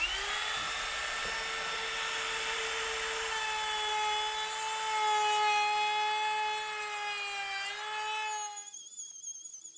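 A router cuts wood to seat joist hangers and build a triple ply beam, making a loud, steady high-pitched whine that holds for about eight seconds before winding down abruptly.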